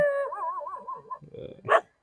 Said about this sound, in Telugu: కుక్కలు వస్తున్నాయి